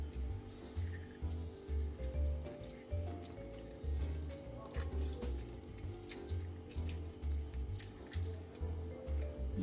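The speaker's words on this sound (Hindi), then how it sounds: "और फिर ये लेमन निचोड़ दें।" Lemon squeezed over chicken for a roasted chicken dish gives soft, wet squishing and dripping sounds in repeated pulses, close and fairly quiet.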